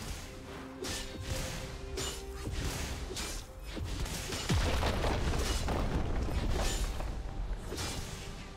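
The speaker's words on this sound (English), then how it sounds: "Blue team's turret has been destroyed." A turret crumbling in League of Legends: dense crashing, booming impacts and whooshes from the game's battle, loud and continuous, with a heavier collapse midway.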